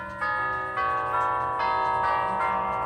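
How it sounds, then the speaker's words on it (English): A Herschede tubular bell clock plays the Whittington chime, ringing a series of clear resonant tubular bell notes one after another at a steady pace. Each tone rings on and overlaps the next, close and moderately loud. "Okay, so we're on the Whittington chime. It's 1/4 after, the Whittington chime plays 8 notes. We just heard 8 notes."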